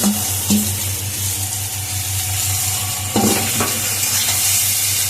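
Pasta sizzles in a pan with fried egg, onion and potato while a utensil scrapes and stirs it in a few short strokes, the frying hiss steady underneath.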